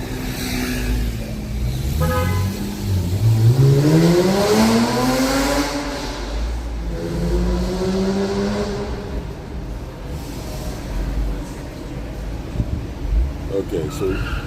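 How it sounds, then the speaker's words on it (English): A car pulling away and accelerating nearby, its engine tone rising steadily over several seconds through a continuous rush of road and wind noise, with no talking. "Oh, the car's gonna move now."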